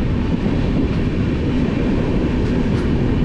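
The Pothigai SF Express train in India rolling along, a loud, steady rumble of wheels and carriages heard from on board, with no talk.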